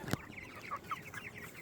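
Meat chickens on pasture give soft, short clucks and murmurs, moderately close and fairly quiet, with a sharp knock at the start.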